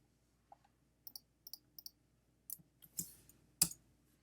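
Sharp, quiet mouse clicks in Photoshop come in an irregular series of single and double taps, with a louder pair of clicks toward the end, in a quiet room.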